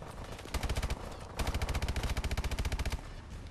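Rapid automatic bursts from the KF5 in a shooter video game, two loud sustained volleys of evenly spaced shots separated by a brief lull, with no talking.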